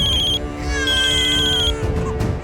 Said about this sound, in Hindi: अब किसका फोन आ रहा है?